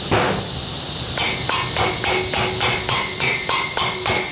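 Light hammer taps seating a part on an electric motor whose rear bearing has failed, about eight even, sharp knocks in a steady rhythm over a constant background hiss, close and fairly loud.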